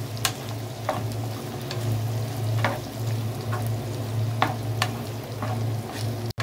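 Beef browned with sliced onions and bell peppers is stirred in a hot pan; spatula scrapes come every second or so over a continuous close sizzle.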